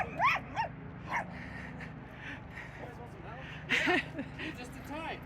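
A dog barks at friends arriving at a building site, giving several sharp yips and barks spaced across the moment, some whimpering in between, with a person talking nearby.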